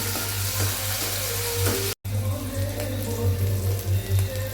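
Chopped potatoes and green chillies hiss and sizzle in a pan with cumin for sabudana khichdi, a steady close frying sound with a low hum underneath and a brief dropout midway.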